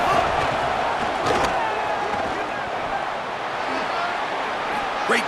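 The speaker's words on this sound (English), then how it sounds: "the crowd coming to life here, trying to help this defense down in the red zone" A stadium crowd roars in a steady, dense wash in EA Sports College Football 27 as the defense is pushed near the red zone, with a commentator's voice talking over it.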